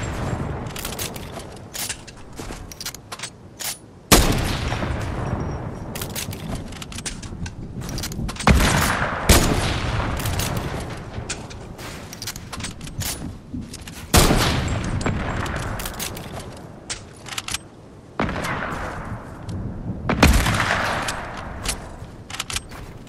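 Gunfire in a duos video game match: loud booming shots spaced several seconds apart, each with a long decaying tail, over a constant bed of game noise and rapid clicks.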